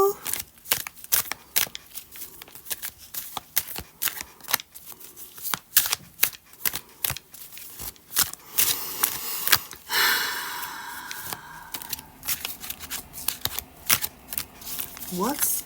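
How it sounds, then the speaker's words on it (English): Oracle cards are shuffled over and over in quick, crisp riffling bursts, close and fairly loud, with a brief voice partway through. "Shuffle, shuffle, shuffle."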